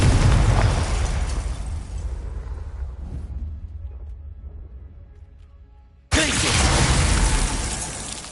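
Confringo blasting-spell explosion in Hogwarts Legacy: a loud boom that decays over several seconds, then a second sharp blast hits hard and stays loud to the end.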